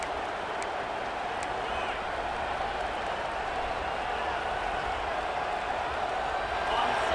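A dense, steady stadium crowd roar in the EA Sports College Football 26 video game, a broad continuous wash of distant voices and murmur with faint scattered claps, holding level throughout with no lull.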